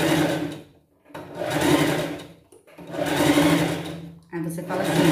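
A sewing machine stitches fabric for a pet costume in four sustained bursts with short pauses between them, loud and close, with a voice talking over the machine.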